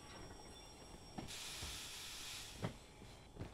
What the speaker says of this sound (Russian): И на меня пар выпускает, мне это не нравится.